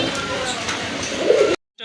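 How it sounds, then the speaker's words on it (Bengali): Pigeons kept for sale at a bird market coo briefly in a low, throaty burst near the end, partly under a voice, before the sound cuts off abruptly. "কবুতর আছে এখানে"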